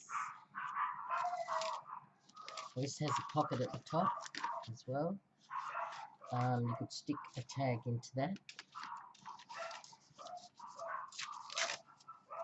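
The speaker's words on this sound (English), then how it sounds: "the dogs are going off" Dogs bark in the background while someone talks steadily close by, with paper and crafting noises mixed in.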